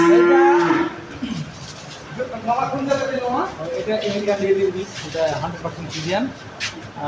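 A cow in heat moos repeatedly, loud and close, with long drawn calls across the span, while people talk over and between the calls on a farm during artificial insemination.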